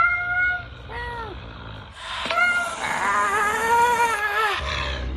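A cat meows and yowls several times up close, with drawn-out wavering cries building into a long loud caterwaul near the end.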